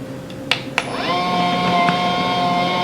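Electric automatic meat shredder: two soft clicks, then its motor spins up into a steady, close whirring whine with a bright tonal hum that holds to the end.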